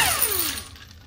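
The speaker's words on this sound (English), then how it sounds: "You always want to use impact sockets with an impact gun." An impact gun with an impact socket removing a crank pulley bolt on a K-series engine, a loud close burst that winds down in pitch within about half a second and fades.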